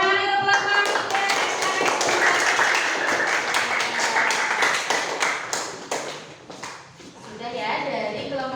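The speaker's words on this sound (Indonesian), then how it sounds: "Tepuk tangan untuk kelompok 3." Classroom students clap together for a presenting group, a dense burst of many hands with scattered voices, fading briefly then rising again toward the end.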